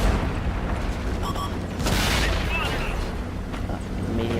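In the online tank game World of Tanks, heavy cannon booms and mechanical clanks from a tank battle play loudly under a continuous rumbling engine drone, with a player talking over them.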